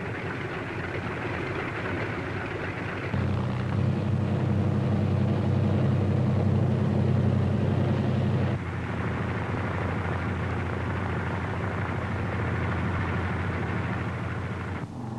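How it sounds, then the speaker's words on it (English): Several C-47 transport aircraft run their piston engines at the head of a runway while preparing for takeoff, a steady heavy drone with a louder, deeper stretch in the middle that then settles back, continuous throughout. "other C-47s move into position for their takeoff at the head of the runway"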